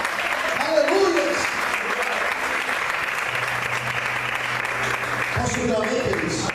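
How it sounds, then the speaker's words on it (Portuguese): A church congregation applauds during a sermon, a steady dense clapping wash under scattered voices and shouts, with a sustained low hum in the middle. "Você pode aplaudir o Senhor por isso?"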